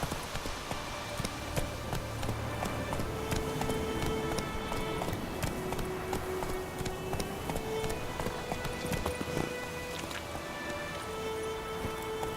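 Horse galloping in The Witcher 3, rapid rhythmic hoofbeats pounding continuously under a game music score with sustained tones.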